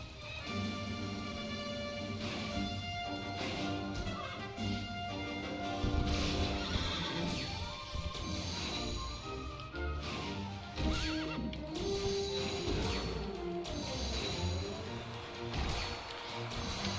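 Horses in the video game Dragon Quest XI neigh and whinny over rapid clip-clop galloping hooves, layered with game music at a steady, fairly loud level.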